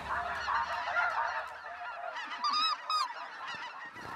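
Many geese honk loudly and continuously overhead during a goose hunt on the Saskatchewan prairie, a dense chorus of overlapping calls close by.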